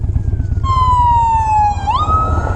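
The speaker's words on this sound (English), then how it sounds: "I hear an ambulance." A loud siren wails close by with a long falling tone that jumps back up, over a low rumbling engine.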